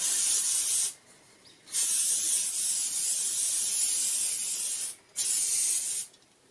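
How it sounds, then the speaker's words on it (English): General-purpose Loctite adhesive spray hisses out of a can onto a board in three sustained bursts with short pauses between them, loud and close. "general purpose Loctite adhesive spray"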